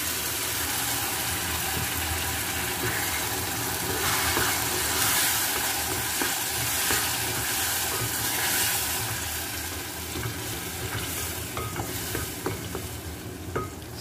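Tomatoes frying in a pan with browned shallots, a steady close sizzle with stirring scrapes running throughout, loud and continuous with faint clinks toward the end.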